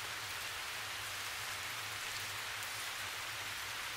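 Steady rain in a Japanese audio drama for Silent Hill 4 The Room, a dense, even hiss of falling drops that continues unbroken without any voices.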